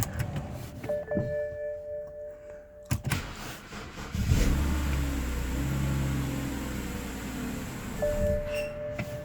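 A BMW E90 engine is held running while the pedal is worked: a sharp clunk, then a low rumble that swells into a sustained rev before easing back to idle, close and loud with no talk.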